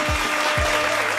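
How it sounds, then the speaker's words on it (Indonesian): An audience at a youth event claps in a continuous, fairly loud wash of applause, with deep thumping bass beats pulsing underneath. "berikan tepuk tangannya mana nih?"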